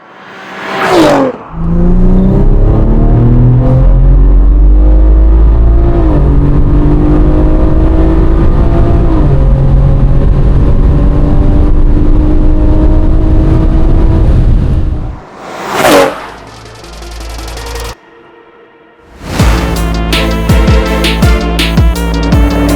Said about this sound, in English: This is Tunotronics Stage 3 BMW M340i, and it is the quickest BMW M340i in the country.